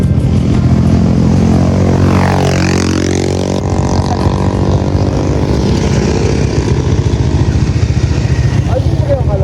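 A Honda Click scooter rides along a road toward a waterfall with a loud, steady engine drone. A passing vehicle's rising and falling whine sweeps through the middle, and voices may be heard over it.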